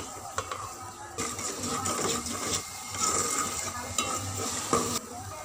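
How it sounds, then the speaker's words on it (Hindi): Masala fries in a pot with a constant sizzle while a spoon stirs it, scraping and clinking against the metal at close range. "ये कवर करके बीच बीच में आहिस्ता आहिस्ता चम्मच चलाते रहें। और ये अब मसाला हमारा अच्छी तरह से मैंने भून लिया है।"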